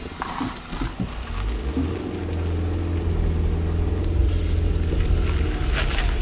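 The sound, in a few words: low MPV car engine climbing an uphill road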